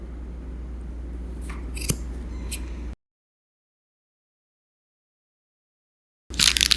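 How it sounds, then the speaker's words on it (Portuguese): Scissors snip through macramé cord while a macramé bag is being made: a few crisp, close cuts over a steady low hum, then a long silence before more handling noise. "Então é só você vir com a tesoura e ir cortando aqui na voltinha"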